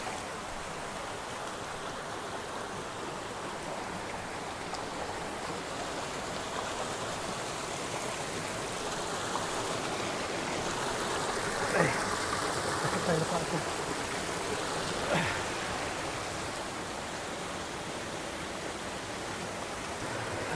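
Stream water flows near Sulok Beach in General Nakar, a steady, broadband rushing that stays constant from start to end, with a couple of faint knocks or splashes near the middle.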